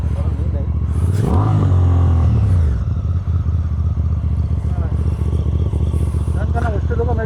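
A motorcycle struggles up a rough hill road at Gorakh Hills, its engine revving hard and loud for about two seconds, then settling to an idle chug with clatter while people talk nearby.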